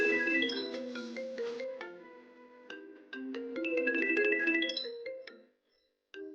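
A melodic phone ringtone plays loud and close for an incoming call, with repeating chimed phrases that break off, pause, and briefly resume.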